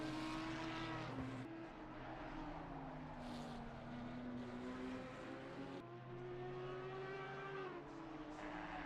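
Ferrari and Audi race cars in a racing video game on the Corkscrew circuit, heard as sustained engine drones with rising and falling pitch as the cars shift and accelerate, fairly faint and continuous.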